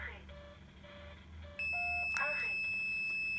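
A Diagral SA210 alarm siren, newly paired with its alarm system, answers with a few short beeps followed by a loud, sustained high electronic tone, heard close by in a quiet room.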